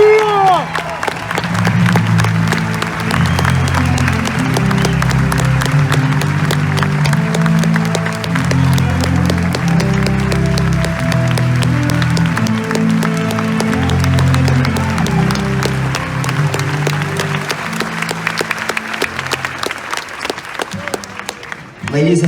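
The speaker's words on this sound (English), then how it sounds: "Ladies and gentlemen, please join us in a round of applause" Applause from the audience at a U.S. Army infantry graduation at Fort Benning, loud sustained clapping and scattered cheers that swell and hold for a long stretch while a brass band plays a tune underneath.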